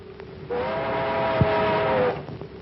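C&O streamliner passenger train arriving at Gold City Junction in a 1943 film, a sustained horn blast lasting over a second above a steady rumble of the train.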